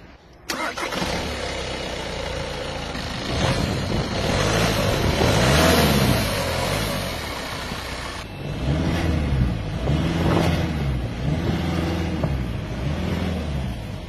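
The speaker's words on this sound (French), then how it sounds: "On va vous faire écouter un peu du coup, le son du moteur." An Audi A3 8V engine starts and then idles with repeated revving, loud and close, with swelling rises and falls in pitch and no talking.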